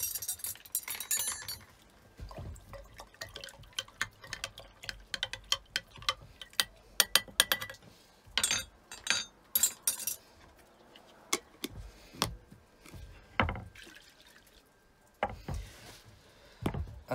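Pomegranate tincture with vodka being stirred in a glass jar: a spoon clinks and taps against the glass in irregular bursts of sharp, close knocks, separated by brief quiet gaps.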